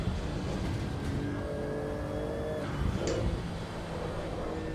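A Porsche 935 race car in Assetto Corsa EVO, its rear-mounted engine droning and rising in pitch under acceleration, with steady tonal harmonics and a brief sharper rev partway through.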